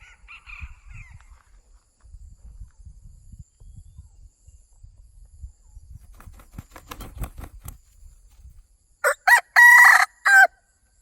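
After several seconds of quiet rustling and soft footsteps, a wild junglefowl rooster crows loudly once, a short choppy call close by, answering another rooster.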